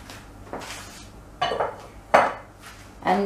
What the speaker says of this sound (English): We'll take out this ukad in a plate.